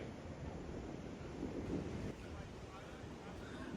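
Steady wind-blown roar of ocean surf washing in on Victoria's Great Ocean Road, Australia, a continuous broadband rush without distinct breaks, with faint muffled voices under it.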